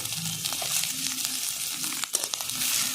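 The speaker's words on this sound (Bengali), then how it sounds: "ভালো করে ভেজে নেব পেঁয়াজ লঙ্কাটা" Chopped onion and green chilli frying in hot oil with a steady, close sizzle throughout, a few stirring clinks of a spatula against the pan, no voices.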